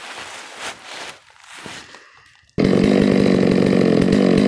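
A Stihl 660 chainsaw, ported and warmed up, starts suddenly after some quieter handling noise and then runs loud and steady at high revs, close by, with no talk over it.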